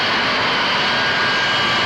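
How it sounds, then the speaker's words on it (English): A fixed-wing airplane comes in to land, its engine giving a steady, loud broadband roar that holds evenly throughout, with no voices. "Everybody, the plane landed."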